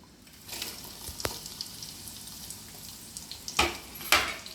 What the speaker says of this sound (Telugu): ఇవి బాగా వేగాలండి